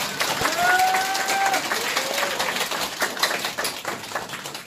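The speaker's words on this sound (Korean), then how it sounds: "다시 한번 큰 박수 부탁드리겠습니다." A crowd at a Korean political party rally claps at the close of a speech, a sustained wash of many hands with a brief high whistle early on and faint murmuring voices underneath.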